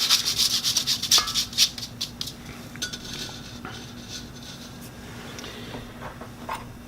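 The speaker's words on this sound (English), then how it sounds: "Run it through your sifter." Flour, cocoa, baking powder and salt pass through a hand sifter in a kitchen: brisk, rhythmic scratchy rasps close by for about two seconds, then quieter scattered scrapes and light clinks.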